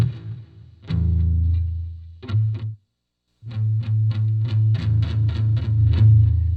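Electric guitar through a used amp on super high gain, volume about 2 and gain near 8, plays heavily distorted sustained chords, then a brief silence, then a run of rhythmic chugging strikes, loud and close.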